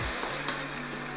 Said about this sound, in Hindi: आप इसको 3 मिनट फ्राई करें